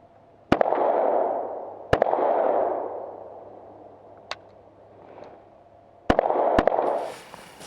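A Beretta 96 Brigadier Elite II pistol fires on an outdoor range, five sharp loud reports at uneven intervals, each followed by a long rolling echo, with two shots close together near the end.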